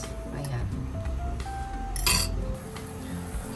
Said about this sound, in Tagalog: niluluto ko na yung noodles